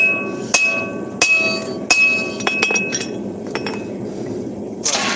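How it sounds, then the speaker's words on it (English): A hammer strikes the faces of a hot hammer head on an anvil during forging, giving a series of sharp, ringing metallic clinks at an uneven pace over a steady background rush. "I'll do a little bit of forging on the faces now while the eye is cold"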